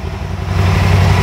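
A Can-Am Spyder's engine runs at a steady idle close by, a loud low throbbing hum that rises slightly partway through.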